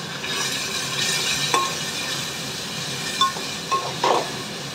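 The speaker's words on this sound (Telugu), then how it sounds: "ఒకసారి కలుపుకుందాం." Tomatoes sizzle steadily in a pan of fried ginger-garlic paste while a spoon stirs them, with a few sharp clinks against the pan over the constant frying hiss.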